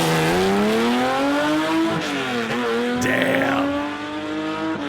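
A Porsche rally car with its engine screaming at high revs, pitch climbing and dropping through gear changes, loud and close, with tire noise, and a brief exclamation from a voice over it.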